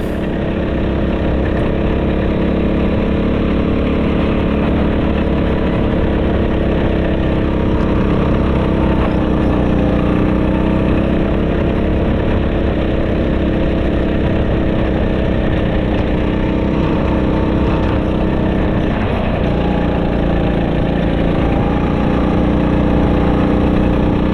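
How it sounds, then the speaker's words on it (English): A hire go-kart engine at MakoTrac Mareeba, Queensland, drones loud and steady, bogging down and straining as it pulls out of a corner, with no talk. "you can really hear the motor bog down and get a little bit stressed and therefore losing speed"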